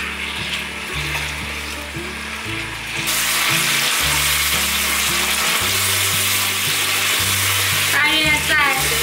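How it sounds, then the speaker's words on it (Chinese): Food sizzles loudly in a pan over medium-low heat as seasoning of rose salt, sugar, white pepper and soy sauce is stir-fried in, the hiss jumping louder partway through with steady close frying noise and a brief scraping stir near the end. "开中小火，把调味料炒匀"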